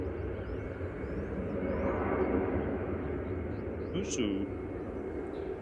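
An Airbus A319 airliner at Manchester Airport, a steady broad engine rumble from a distance, with a voice speaking briefly over it.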